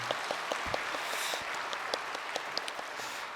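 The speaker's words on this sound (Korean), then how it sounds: "저희 젊은이 교회 국내 단기 선교 팀원들에게 고생했다고 격려의 박수 좀 해주시면 감사하겠습니다" A church congregation at a Sunday evening service applauds a returning domestic short-term mission team, a steady wash of clapping with scattered sharper claps, moderately quiet and without voices.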